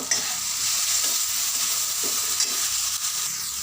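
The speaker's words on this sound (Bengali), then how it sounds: "এবারে এর মধ্যে দিয়ে দেবো গুঁড়ো হলুদ পরিমাণ মতো দিয়ে আবারও কষে নেব" Masala sizzles steadily in oil in a kadai while being stirred with turmeric powder for a green pea kofta curry, a constant close frying hiss with scraping stir strokes throughout.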